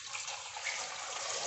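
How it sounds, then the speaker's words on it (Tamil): Water poured generously from a vessel over cut tapioca pieces sprinkled with turmeric, a steady broadband splashing and trickling that runs continuously throughout, close and moderately loud with no talking. "இதுக்கு வந்து நம்ம நிறைய தண்ணி ஊற்றணும்."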